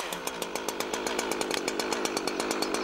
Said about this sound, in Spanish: Cuando haya arrancado la sierra, espere para desactivar el freno de cadena hasta que vaya a empezar a cortar.